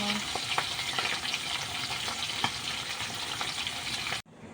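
Banana and dried fish frying in hot oil give a steady, close crackling sizzle with scattered pops, running unbroken until it cuts off abruptly near the end.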